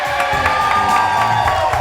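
A studio audience at a talk show opening cheering and whooping steadily, a loud, continuous crowd roar with scattered clapping and no clear single voice.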